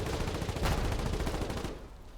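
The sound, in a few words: gunfire in the video game Foxhole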